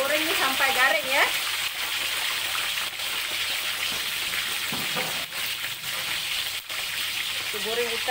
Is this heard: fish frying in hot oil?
yes